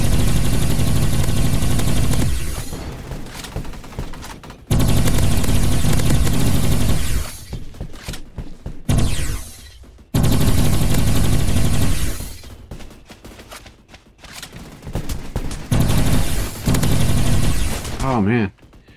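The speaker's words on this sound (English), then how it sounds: "That stupid AK-12 keeps hitting me." Loud bursts of AK-12 automatic gunfire in the Roblox shooter Energy Assault, in long sustained volleys separated by short pauses, with other game effects between them.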